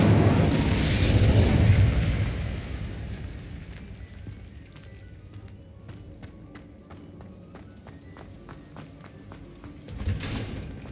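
A fiery Incendio spell from Hogwarts Legacy erupts in a loud, roaring whoosh that fades over about two seconds. Footsteps and clicky game sounds follow, then a second burst flares near the end.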